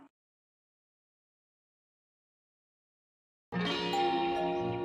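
After a long silence, a doorbell chime suddenly rings out, bright and ringing, with layered tones that sustain to the end.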